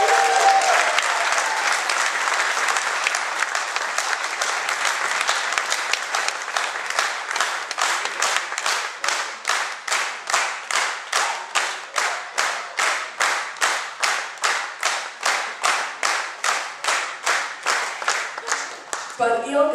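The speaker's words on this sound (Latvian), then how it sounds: "skaļi aplausi." Loud audience applause at a folk dance ensemble's anniversary concert, starting as a dense, steady ovation and settling into rhythmic, unified clapping in time for the rest of the stretch, close and sustained.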